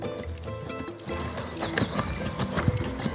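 Hooves of a novice PRE Andalusian horse clip-clop steadily across an arena at an international horse show, a continuous near rhythm of footfalls with no talk over it.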